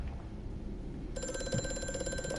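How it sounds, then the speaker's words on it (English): A phone in Amnesia: A Machine for Pigs starts ringing partway through, a clear electronic trill of rapid repeated pulses over a low, droning game ambience. "Ah, my cellular device seems to be ringing."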